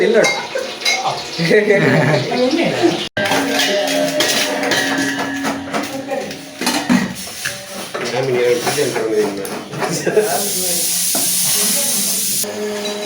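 Food frying in a pan during a friends' nature stay at Shivapura, with steady sizzling, a utensil scraping and clinking as it is stirred, and people chatting over it.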